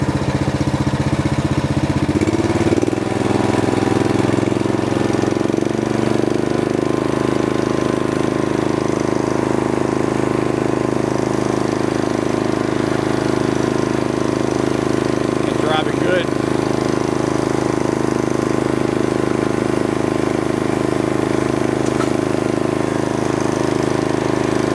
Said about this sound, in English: Release the brake, and it's moving good now. Give it some gas here.